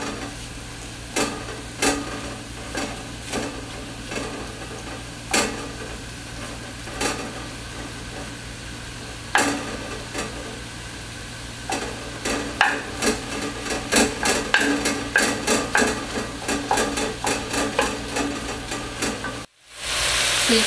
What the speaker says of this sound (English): I'll just saute this until it's lightly brown